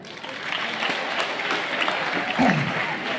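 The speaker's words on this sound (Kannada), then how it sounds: "ಅವ್ರಿಗೆ ಚಪ್ಪಾಳೆ ಹೊಡ್ರಿ" A seated audience claps together, swelling from a softer start into steady, fairly loud applause that carries on to the end.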